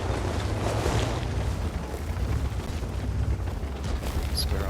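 A tank cannon fires a side shot in World of Tanks, a deep booming blast with rumbling low-end roar that decays over several seconds amid wind-like battlefield noise.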